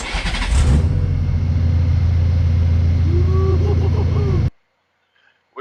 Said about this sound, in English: Let's give you a cold start of this F6B.